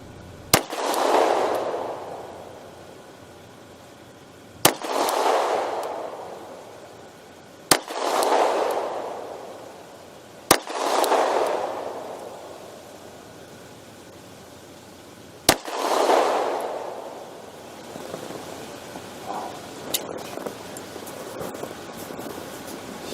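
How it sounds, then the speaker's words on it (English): Five sharp gunshots from a Glock 43x 9mm pistol crack out at an outdoor range, spaced several seconds apart, each followed by a rolling echo that fades slowly. "I'm going to have him shoot a little bit, see how he does with the new pistols"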